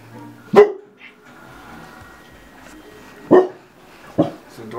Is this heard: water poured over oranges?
no